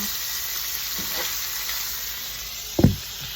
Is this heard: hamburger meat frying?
yes